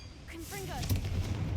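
Confringo fire spell blast in the video game Hogwarts Legacy, a booming explosive burst with a rumbling low-end tail, preceded by a voice casting the spell, fairly faint overall.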